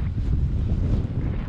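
Strong wind buffets the microphone on an icy alpine mountain peak, a loud, continuous low roar with gusting swells throughout.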